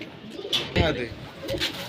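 Racing pigeons in a loft coo nearby in a few soft, throaty phrases, with sharper bird calls and faint background activity.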